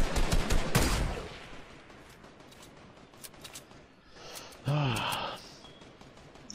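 Bursts of rapid gunfire in a squads battle-royale video game, loud and dense at the start, then thinning to scattered shots, with a brief voice-like sound partway through.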